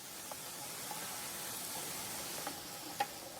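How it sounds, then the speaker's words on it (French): Garlic cooking in a very hot pan for Peruvian carapulcra gives a steady, low sizzle with a soft hiss and a few faint stirring clicks, one slightly sharper tick near the end. "Ici, nous avons l'ail à mettre dans la casserole, qui est très chaude."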